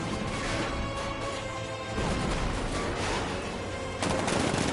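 Rapid bursts of heavy tank cannon fire and crashing explosions from Batman: Arkham Knight, dense and loud throughout.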